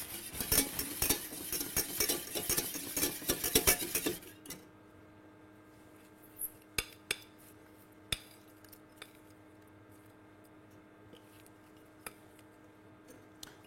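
A utensil stirs egg yolks, whole eggs and sugar in a pan off the heat, with dense, busy scraping and clinking for about four seconds, then quiet with a few isolated taps.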